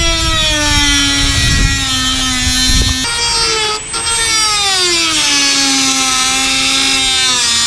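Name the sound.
power tool shaving material off during MaxxAir fan install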